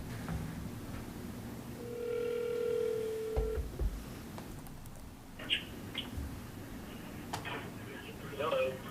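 A phone call being placed on speakerphone at a school board meeting, heard as a brief steady electronic tone followed by faint clicks and room noise.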